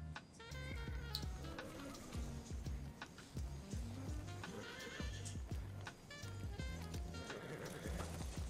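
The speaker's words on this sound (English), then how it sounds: "And so she runs away on a horse and Criston chases her." A horse neighs and whinnies loudly while hooves clip-clop in a steady rhythm, part of a dramatic fantasy series scene with music-like layered sound throughout.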